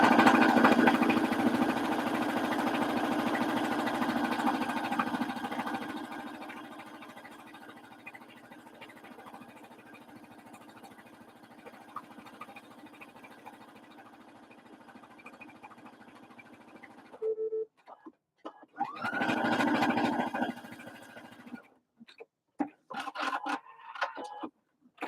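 Sewing machine stitching a bucket hat, a steady mechanical hum and rapid stitching drone that fades after several seconds, followed by quieter intermittent bursts of stitching and handling noises near the end.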